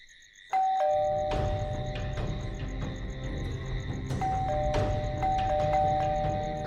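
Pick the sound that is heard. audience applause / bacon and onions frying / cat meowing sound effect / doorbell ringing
doorbell ringing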